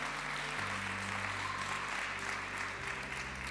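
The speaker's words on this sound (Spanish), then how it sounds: "Démosle un aplauso a ese uno y al Señor." Church congregation applauding, steady clapping from many people accompanied by sustained low organ or keyboard tones that shift pitch midway.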